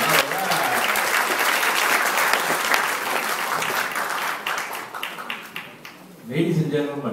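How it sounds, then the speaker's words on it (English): An audience at a Toastmasters division meeting gives sustained applause, dense clapping throughout that thins and fades near the end, with a voice speaking briefly as it dies down. "Please give him a big round of applause for a job well done."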